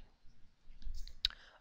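A computer mouse clicks a couple of times, faint and close, with a quiet background.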